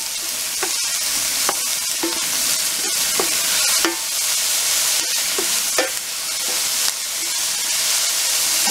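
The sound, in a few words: onions frying and being stirred in a pan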